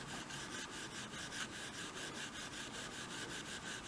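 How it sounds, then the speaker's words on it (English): Steel wool rubbed briskly over a wooden surface to buff out small bumps, a steady, close, rhythmic scratchy rasp repeating in even back-and-forth strokes with no talking. "and buff this thing out. I can feel it, the little bumps on it with this steel wool"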